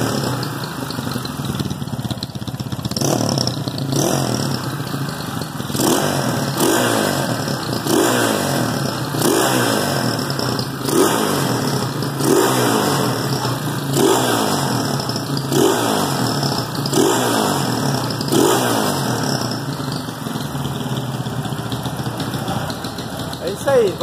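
A 248cc motorcycle engine, bored from 70mm to 74mm, running steadily while riding after rain, with repeated revs rising and falling in regular surges, loud and close throughout.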